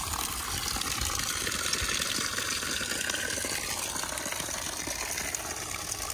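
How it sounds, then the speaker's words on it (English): Water gushes steadily from a boat's bilge pump outlet, a continuous splashing rush with no talking. "So the bilge pump is hard at work right now."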